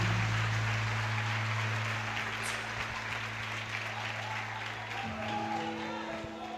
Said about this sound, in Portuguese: Mais uma salva de palmas a Jesus.